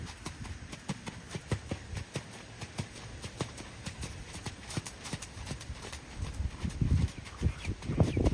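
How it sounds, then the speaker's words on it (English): Horse hooves clip-clop steadily through trot and canter transitions during a flat warm-up, a close, rhythmic run of sharp strikes that grows slightly louder and heavier near the end, with no talking. "just doing some trot canter transitions on the front rein here"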